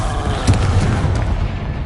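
A Confringo spell explosion in the Hogwarts Legacy video game bursts out as a loud, dense blast that swells and rumbles for under two seconds, heard alone with no talk over it.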